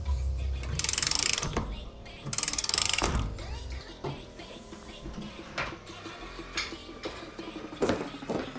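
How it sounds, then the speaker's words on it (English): Lug nuts being run onto a wheel of a Pajero Mini with a ratchet, giving bursts of rapid clicking and ratcheting close by, with metallic clanks and pauses between the runs. "Now go ahead and install all your lug nuts. Get them tightened down, but not torqued down."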